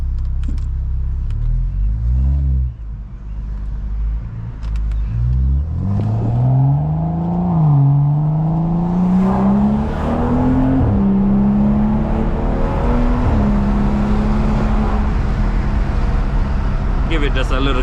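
BMW 535i with a 3-inch single exit exhaust rumbling and revving, its engine tone rising and holding steady at a light, with people talking over the deep, close exhaust note.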